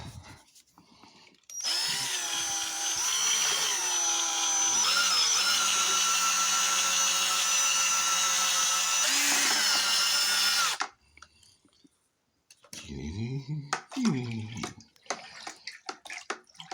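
Power drill stirring finings into a fermented molasses wash for home distilling, a steady whirring drone with churning liquid for about nine seconds, then stopping, followed by faint sloshing and handling noises.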